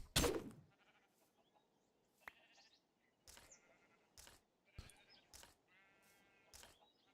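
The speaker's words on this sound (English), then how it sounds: "Alright, many sheeps." Blocky sheep bleating in Minecraft, several short nasal bleats spread out over quiet game background, with a sharp thump at the start and soft clicks in between.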